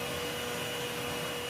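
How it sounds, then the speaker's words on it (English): A steady, loud vacuum cleaner drones without a break, drying out a wet, moldy area inside an RV during delamination repair, close up and alone with no talk. "used this vacuum and a couple heaters to try to dry it out as best I could"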